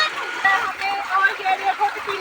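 Water from a farm tube well splashes and gurgles close by as children throw it onto a phone, a busy run of small splashes and trickles, with a voice talking over it.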